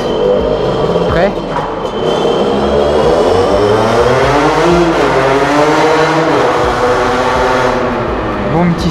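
A Sherco Factory supermoto motorcycle engine revs and pulls hard, its pitch climbing and falling through repeated accelerations, loud and close throughout, with a rider's voice speaking over it.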